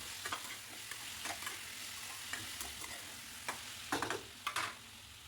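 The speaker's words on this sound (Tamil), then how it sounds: "உருளைக்கிழங்கு சேர்த்து அதையுமே நல்லா வதக்கி விட்டுருங்க" Potatoes and drumsticks are sautéed with onions and tomatoes in a pan. A soft, steady sizzle runs under intermittent scraping stirs of a spatula, fairly faint, with no talking.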